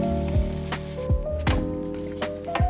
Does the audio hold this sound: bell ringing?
no